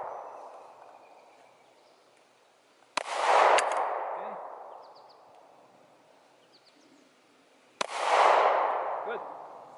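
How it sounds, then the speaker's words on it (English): Two pistol shots fired down range at a shooting lesson, each a sharp loud crack followed by a long echoing decay, spaced about five seconds apart on an otherwise quiet outdoor range. "We got about 10 or 15 rounds down range"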